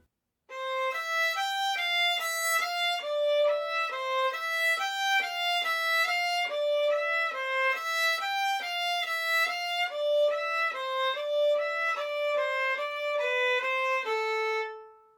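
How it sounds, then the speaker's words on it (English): Bowed violin notes in a steady stream of separate, evenly articulated on-the-string détaché strokes, each note clearly detached, playing a continuous melodic line without pause. "On the violin, it describes an on-the-string stroke that looks and sounds something like this."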